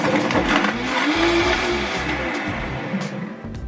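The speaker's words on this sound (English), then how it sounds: "So I'm just gonna blend everything up as is, and then I'll just pulse the blender with the parsley in it" A kitchen blender whirs loudly as it purees a water-based sauce with parsley, a continuous motor drone with slight pitch changes, close and alone.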